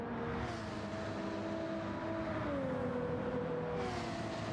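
Race car engine held at full throttle in Gran Turismo 7 at Watkins Glen, a loud, steady roar with a whining tone that dips and climbs through the corners, with no voices over it.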